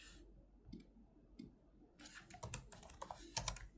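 Keys tapped on a computer keyboard while entering an axis title in a spreadsheet, a few isolated clicks followed by a quicker, denser burst of close, soft typing with no voice.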